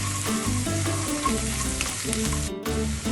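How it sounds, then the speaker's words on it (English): Onions and garlic sauteing in butter in a hot pan, a steady close sizzle with crackling throughout and a brief dip near the end, no voices. "now I'm going to add about half a cup of onions. I'm going to saute this well."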